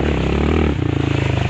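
Honda Grom fitted with a CRF-110 high pipe riding off road, its small single-cylinder engine droning loud and close, then shifting into a choppier, pulsing note as the throttle changes.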